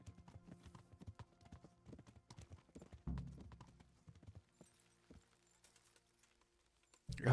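Horse hooves in the video game Kingdom Come: Deliverance clip-clop in a steady, rapid rhythm, moderately close, fading in and out with a few louder thuds and a sharp bump at the end.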